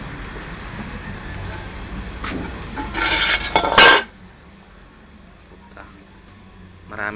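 Metal clanks and rattles as a lid is lifted off a cookware pot, a loud burst of clatter amid outdoor background noise, then quieter rumble afterward.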